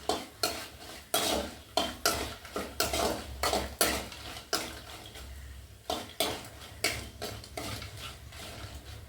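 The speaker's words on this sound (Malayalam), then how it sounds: "നന്നായിട്ട് അതിലേക്ക് കിടന്നൊന്ന് വറുത്ത് വരട്ടെ." Ingredients for sambar frying in a pan, with repeated stirring scrapes and utensil clatter over a steady low sizzle, close and moderately loud throughout.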